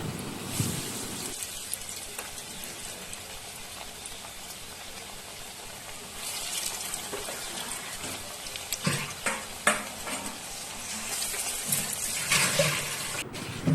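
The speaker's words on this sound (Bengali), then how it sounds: "এবার আমি গ্যাসের ওপর কড়াই বসিয়ে কড়াই পরিমাণ মতো তেল দিয়ে দেব। যে তেলটি গরম হয়ে এলে আমি চপগুলো একে একে সব দিয়ে দেব।" Banana flower chops frying in hot oil in a wok on a gas stove, a steady broadband sizzle that swells and crackles louder in bursts as more pieces go in, close and continuous with no talking.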